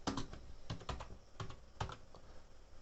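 A Zebronics Judwaa 555 USB keyboard clatters under fast typing, with bursts of sharp, close keystrokes, several quick clusters of clicks and brief pauses, no voices.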